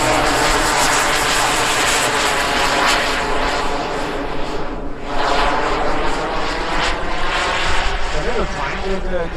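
An RC model SU-30 jet at a Florida Jets flying event roars past with a loud, sustained engine whine that swells and shifts pitch, while someone talks over it.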